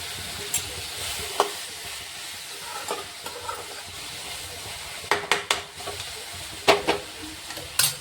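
Gram flour palya with onion and tomato frying in a pan, a steady low sizzle broken by sharp scraping clacks of a spoon stirring, sparse at first and then in quick clusters toward the end.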